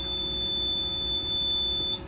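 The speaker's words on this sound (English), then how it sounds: "If this is not here and you turn your key, your boat will beep at you." A rental boat's warning beeper, triggered when the ignition key is turned without the safety lanyard attached, holds one steady high-pitched electronic tone for about two seconds over a low engine or background hum, with no talking.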